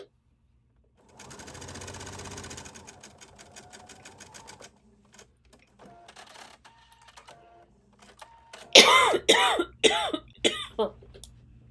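A sewing machine runs a seam attaching facing to a shirt front, a steady whirring run early, then sparse clicks before a louder patch of coughing or throat clearing near the end.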